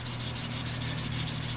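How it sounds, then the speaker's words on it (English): A dual sanding stick is worked back and forth flat on a surface, giving a steady, close, continuous gritty rasp with a quick regular stroke rhythm and no talking. "notice how I can keep it sanding on a flat plane"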